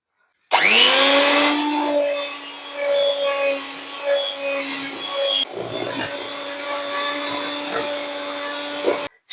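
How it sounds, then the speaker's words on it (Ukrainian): An electric hand mixer beating ten eggs with sugar for Easter paska whirs up abruptly and runs steadily with a high tonal whine, its pitch and loudness wavering as the beaters move through the bowl, then stops near the end. "Так, збиваємо яєчки сюди. Збивати буду міксером."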